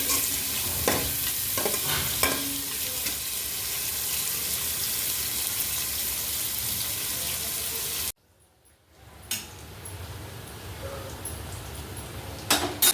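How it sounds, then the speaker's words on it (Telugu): Mint and coriander leaves frying for chicken biryani give a steady close sizzle for about eight seconds, with a few scraping stirs early on; the sound drops out abruptly, then a quieter sizzle and clatter resume. "కొద్దిగా కొత్తిమీర కూడా బాగా మగ్గే వరకు అయితే ఫ్రై చేసుకుందామండి"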